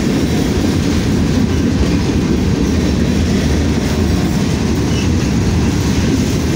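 A train rolls past close by on the railroad, a loud continuous rumble with rhythmic wheel clatter filling the whole stretch, with no voices.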